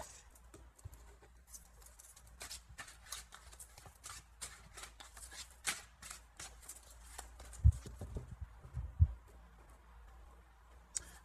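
Tarot cards being shuffled by hand, a series of soft papery riffles and taps in quick irregular bursts, close and fairly quiet, with a couple of louder knocks near the end.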